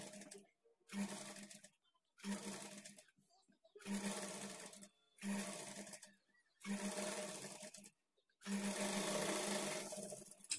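A sewing machine stitches a blouse in six separate bursts, each running one to two seconds with short silent pauses between, fairly quiet and close, with no talking.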